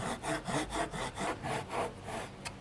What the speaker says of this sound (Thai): ต้องเลื่อยตรงๆอย่าเอียง